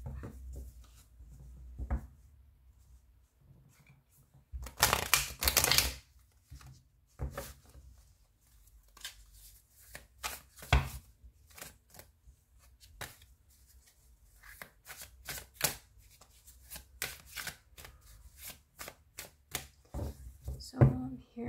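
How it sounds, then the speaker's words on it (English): A deck of tarot cards is shuffled by hand in bursts of crisp riffling and flicking, close and quiet, separated by soft pauses and handling noises, with occasional talk between. "Shuffling noise"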